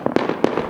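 New Year's Eve fireworks and firecrackers outdoors on a street, a quick series of sharp cracking bangs with reverberant decay, several loud pops in under a second.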